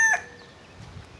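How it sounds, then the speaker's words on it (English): Vienna chickens kept in a backyard pen with ducks give a brief loud crowing call at the start, then a few quieter clucks fade in behind it. "now we have my ducks in here with my Vienna chickens"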